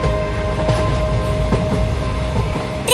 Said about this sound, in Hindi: ट्रेन चलने लगी मम्मी,